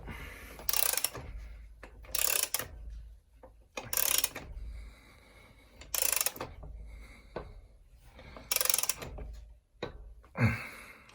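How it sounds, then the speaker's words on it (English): A hand ratchet tightens a bolt on a Cannondale SuperX bicycle during a one-by drivetrain conversion: five or six short bursts of close, rapid clicking come at a regular pace, separated by quiet pauses. "extend the ratchet. Okay, that should be tight enough."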